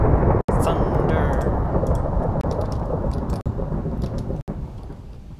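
A thunderstorm rolls through a Minecraft world in the FTB Unleashed modpack, a loud, sustained rumble of thunder over steady rain with a few brief breaks, and a person talking faintly under it.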